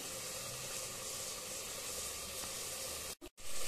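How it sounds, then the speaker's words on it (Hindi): Onion and masala with red chilli powder and coriander powder frying in a pan for chicken gravy, a steady close hiss and sizzle with no talk, briefly cut off near the end. "अब हम मसाला को भी तीन से चार मिनट तक चलाते हुए प्याज के साथ भून लेंगे"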